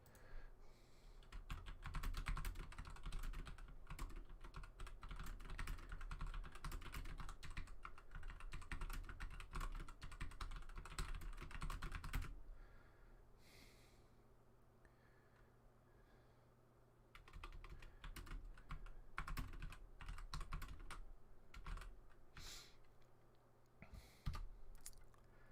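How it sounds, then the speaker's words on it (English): Rapid clicking of a computer keyboard being typed on fills the first half, then fades to faint, sparse key taps and light handling noises, close and steady with no voices. "I'll type the question in and I will pin it."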